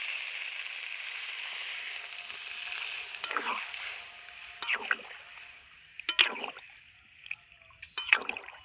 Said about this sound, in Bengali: এবার আমি তরকারি ঝোলের জন্য একটু জল দিয়ে দেবো